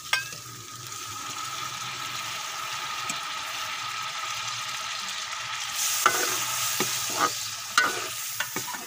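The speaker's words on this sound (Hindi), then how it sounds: "अब इसको हम गलने के लिए पानी लगाएंगे" Mutton liver masala sizzles and fries in a pan, a steady close crackle with scraping stirs, then a burst of louder hissing as water is added near the end.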